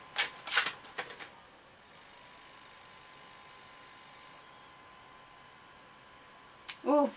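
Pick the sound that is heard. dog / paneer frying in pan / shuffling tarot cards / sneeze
shuffling tarot cards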